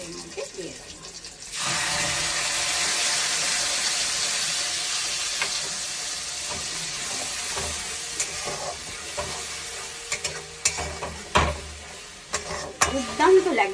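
Coriander paste hits a hot pan with a sudden burst of sizzling that settles into a steady hiss, followed by scraping stirs and clattering utensil knocks toward the end.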